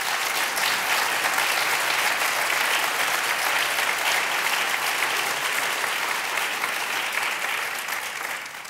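An audience at an address by U.S. Secretary of Education Arne Duncan applauds the Wallace Foundation with dense, sustained clapping that holds steady and eases slightly at the end.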